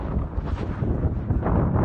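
Strong wind buffeting and roaring across the microphone, a continuous gusty rumble with no other sounds.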